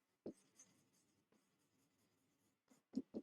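Pen or chalk writing during a plant-biology lesson, a few soft scratchy strokes with sharper taps and clicks near the start and end, quiet and close with no talking.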